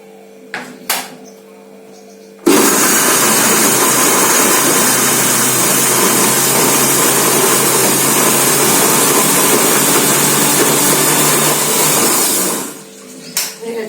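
A mixer grinder blends ginger, garlic, tomato and green chilli in one loud, steady, close whirring run of about ten seconds, with a few light clicks before it and the motor winding down at the end.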